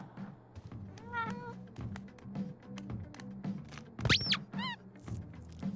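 A cat meows clearly three times, a short call followed later by two higher, rising meows. Soft taps and thunks from the room and light background sounds run between the calls.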